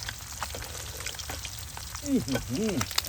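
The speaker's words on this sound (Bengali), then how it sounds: "একদম ডুবো তেলে ফ্রাইটা করতে হবে করলাম দেখুন দর্শক মাছগুলো" Topse fish deep-frying in oil, a soft sizzle and crackle, partly masked by background voices and brief clatter, with a person speaking near the end.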